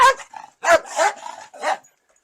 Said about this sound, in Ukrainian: Або це він гавкає точно коли ви є.